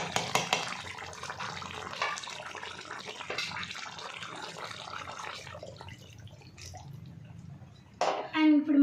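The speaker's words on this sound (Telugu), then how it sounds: "కొన్ని వాటర్ కూడా పోసుకోండి కొంచెం." Water pours into chicken curry cooking in a pan, a steady splashing rush that fills several seconds, then fades. A voice speaks briefly at the end.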